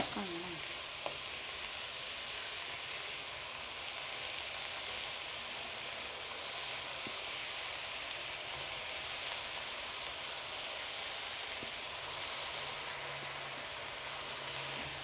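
Onion and carrot sautéing in a pan, a steady, even sizzle and crackle throughout with a few faint stirring clicks, close and uninterrupted.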